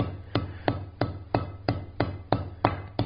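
Rhythmic hammer strikes land on the face of an anvil while a forged ball end is rounded for a coat and hat hook, nine crisp close metallic blows at a quick even pace, moderately loud.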